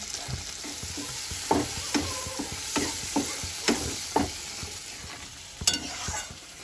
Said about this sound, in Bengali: মশলাটা কষানো হয়েছে